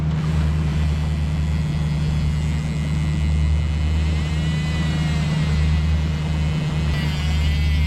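A fishing boat's engine drones steadily and close by, a low, constant rumble with a tonal hum that holds throughout without pause.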